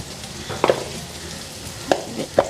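Oil sizzling in a pan while tempering dal, with a steady low hiss and a few sharp spits and crackles as something goes into the hot oil, close and fairly loud.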